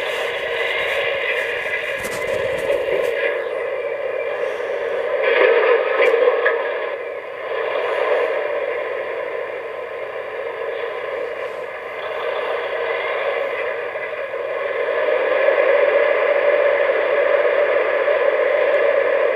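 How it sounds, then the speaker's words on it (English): The motor of an MTH Proto 1.0 Southern Pacific A-6 Cab Forward model train, a steady electric hum and whine heard up close, with faint speech in the background. "Man, does that sound like a tone motor."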